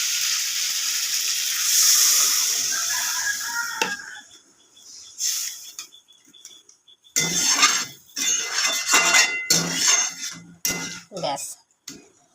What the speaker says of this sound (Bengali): আমি এবার এই তরকারিটার মধ্যে জল দেবো।